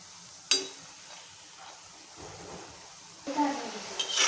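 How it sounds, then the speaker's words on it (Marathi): Vadas deep frying in oil over a medium flame, a soft continuous bubbling sizzle with a sharp clink near the start and louder crackling bursts toward the end. "मध्यम गॅसवरती तळायला घ्यायची म्हणजे एकसारखे भाजले जातात"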